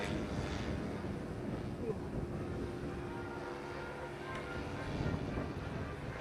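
Several model WWI aircraft, a DH2, a Bristol M1C and a Nieuport 28, flying at an airshow, giving a steady drone of engines at a distance under faint crowd chatter.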